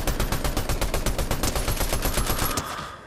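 Rapid automatic gunfire from a video game shooter rattles off in a fast, even burst of many loud shots, then cuts off abruptly near the end.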